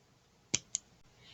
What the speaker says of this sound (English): I'm going to go ahead and cut the tail here of the jute twine.